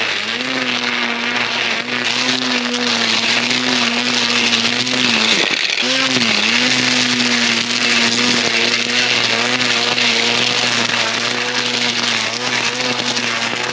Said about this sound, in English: I just went down and back with the weed whacker